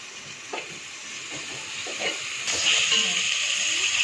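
Ingredients for fried rice frying in a pan, a steady sizzling hiss that swells louder partway through, with faint stirring clinks underneath.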